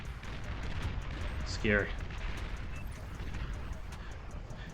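Artillery in the real-time strategy game Beyond All Reason fires in a long-range duel against tier-two artillery, heard as a booming, rumbling barrage with a whistling shell streak, while someone talks over it.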